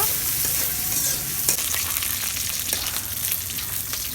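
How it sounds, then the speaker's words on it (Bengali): Green chilies, chopped garlic and onion fry hard in hot oil as a tempering, a loud, dense crackling sizzle under brisk stirring close by. "আমি কাঁচামরিচ, রসুন কুচি আর পেঁয়াজ কুচি দিলাম। এখন ফোড়ন ভেজে নিব।"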